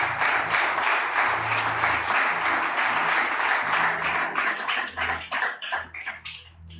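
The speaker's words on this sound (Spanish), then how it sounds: "Dale ese aplauso al Señor." Church congregation applauding during a Spanish-language sermon, a dense, steady wash of clapping from many hands that thins and breaks into scattered claps toward the end, with a low murmur of voices underneath.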